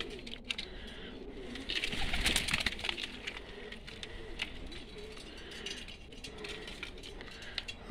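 Pigeons from Dagestan coo softly amid a busy background of clicking, rattling and fluttering, with a louder burst of activity partway through.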